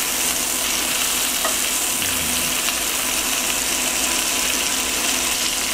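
Meat cooking in a pan and turned onto its side gives a steady, loud, close sizzle with continuous frying crackle throughout, no talk.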